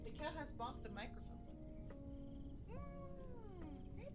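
A pet cat meows close to the microphone, a few short cries followed by a longer rising and falling meow, while a person talks softly in the background.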